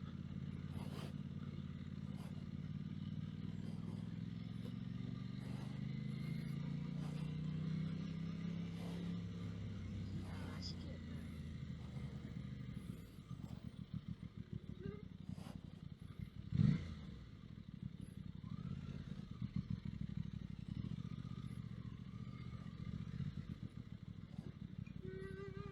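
A Honda CB125F motorcycle passes while filtering through traffic, its small engine note rising over steady road and engine rumble heard from another moving bike, with a brief clunk partway through.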